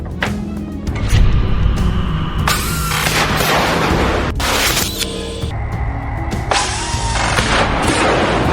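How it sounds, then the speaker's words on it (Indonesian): Heavy gunfire and booming explosions from a battle in which Al-Qassam Brigades fighters fire on an Apache helicopter. Loud, rapid shots and blasts come in dense bursts throughout, with no talking. "Tembakan yang diluncurkan tepat mengenai sasaran"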